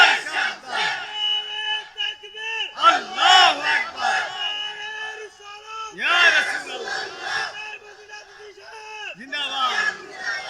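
A large crowd at an outdoor Islamic religious gathering roars a slogan in unison, loud chanted bursts rising and falling in several waves with short pauses between them, voices strained and echoing.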